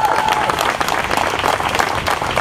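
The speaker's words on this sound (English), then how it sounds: "Give that a round of applause." A large crowd of teachers at a march rally gives loud, dense, continuous applause throughout, with scattered cheering mixed in.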